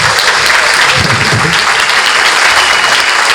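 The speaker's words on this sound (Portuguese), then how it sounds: "Mais palmas para o Celso." Loud, dense audience applause for Celso at a Corinthians study-group event, steady and close with a few voices under it.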